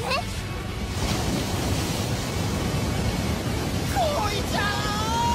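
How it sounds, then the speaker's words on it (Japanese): Anime effect of violent waves and wind whipped up by a high-speed spinning attack: a steady roaring rush of surf and gusts, with brief whooshing swirls near the end. "自らの体を高速回転させることにより激しい波風を起こす"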